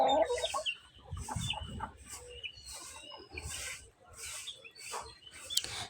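Pet chickens in a village yard being fed, clucking in repeated short bursts close by, fairly soft, with faint rustling between calls.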